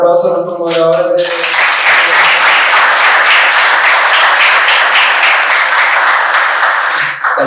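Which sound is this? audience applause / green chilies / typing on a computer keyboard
audience applause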